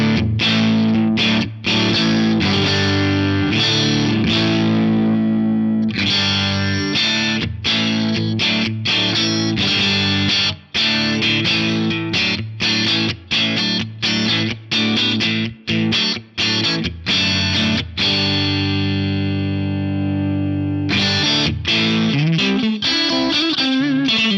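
A Strat in the neck and middle pickup position played through a Vox-style Class A 30-watt Brilliant amp model on an Axe-Fx III with gold plate reverb, loud driven chords struck in rhythmic bursts with short gaps and ringing sustain.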